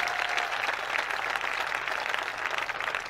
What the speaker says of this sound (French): Est-ce qu'on peut acclamer très fort pour le Seigneur?